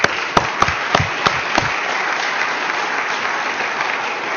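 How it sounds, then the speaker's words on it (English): An awards-ceremony audience claps for competing teams, opening with a few sharp individual claps before settling into a steady, moderately loud round of applause. "Let's give both those teams a round of applause again."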